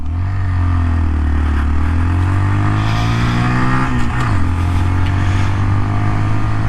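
2019 Honda Monkey motorcycle engine revving steadily while riding, pitch climbing then dropping briefly at a gear shift before pulling on again, loud and close with wind noise.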